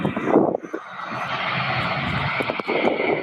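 A Kalitta Air cargo aircraft at Louisville's SDF airport gives off a loud, continuous engine roar with broad jet-like rushing noise, holding steady apart from a brief dip early on.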